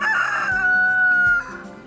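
A rooster on a sustainable farm with free-ranging chickens gives one loud, close cock-a-doodle-doo crow that holds a long drawn-out note before breaking off, alone without talk.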